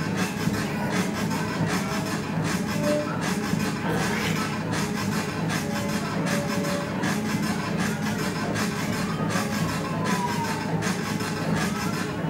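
A home treadmill running with a steady, coarse rubbing and scraping noise, a regular pulsing beat from the moving belt, loud and continuous with no voices.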